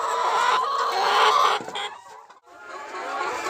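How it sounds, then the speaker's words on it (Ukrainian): Chickens recovering from injuries in an isolation coop, clucking close by in several short bursts with brief quiet gaps between them. "Постраждалі наші курочки сидять ще в ізоляторі, так скажемо, де я чекаю, коли в них затягнуться ранки."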